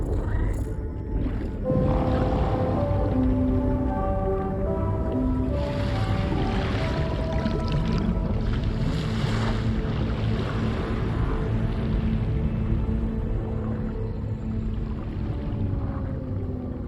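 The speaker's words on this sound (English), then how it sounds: "DHV Magellan surfacing." The DHV Magellan, a huge vessel in Death Stranding 2, rises out of tar with deep rumbling, groaning metallic tones and swelling whooshes, loud and continuous throughout.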